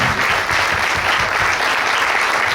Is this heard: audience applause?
yes